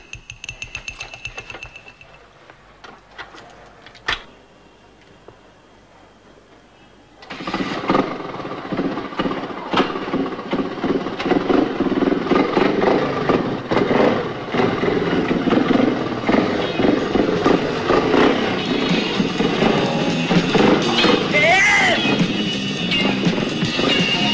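After a quieter start with scattered clicks, a dense roar of revving motorbike engines rises abruptly and continues loud and rough, with fluctuating throttle bursts, for the remaining seventeen seconds.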